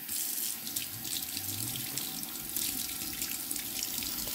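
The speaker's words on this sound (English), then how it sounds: "just give it a final rinse in the running water" Tap water runs steadily into a sink while a silver Pandora butterfly charm is rinsed under it, a continuous close splashing hiss with no talk.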